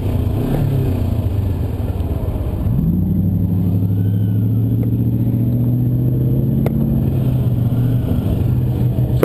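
A car passes close by a moving motorcycle as engine drone and road rumble sweep across and then settle into a steady low hum, with wind buffeting throughout and no speech.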